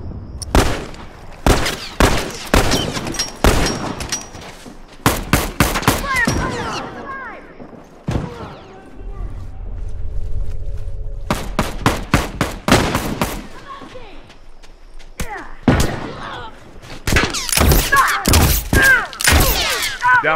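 Rifle gunfire in The Last of Us Remastered Factions multiplayer on the Beach map: loud bursts of sharp shots in rapid clusters, broken by short pauses and a low rumble, with voices talking over the fight.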